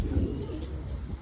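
A Makua pigeon, a long-bodied breed, coos in a low, continuous murmur close by, the soft rolling call running throughout with faint higher chirps above.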